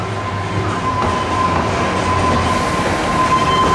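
The Pleasure Beach Express amusement park train rolls by at Blackpool Pleasure Beach, a loud, steady rumble of wheels on track with a faint whistle-like tone running throughout.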